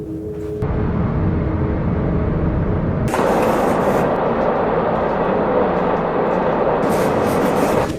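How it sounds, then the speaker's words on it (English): A passenger train runs through a tunnel near Bergdorf with a steady, enclosed rumble and roar. The sound cuts off sharply partway through, then returns at a louder level. "the train has been in a tunnel now since we passed Bergdorf"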